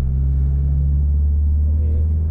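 A Renault 10 driven along a quiet country lane, its engine making a loud, steady low rumble from inside the car for the whole stretch, with no break in the drone.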